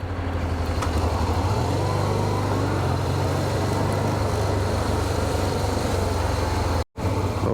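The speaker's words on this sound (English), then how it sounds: "to give an impression of the traffic, which is everywhere the same in Turkey" Steady road traffic rolls through central Van in Turkey, a continuous near rumble of car and truck engines with a low drone, one brief dropout near the end.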